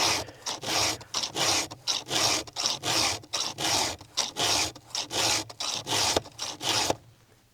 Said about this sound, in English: Jeez, it sucks filing chain for no good reason.